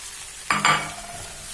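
Instant noodles with kimchi are stir-fried in a pan, giving one short burst of scraping and sizzling as the food is tossed, then quiet frying hiss.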